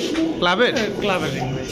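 A pet pigeon from a Bangladeshi fancier's stock, club-ringed, coos in loud, close warbling phrases, with a voice talking over it throughout.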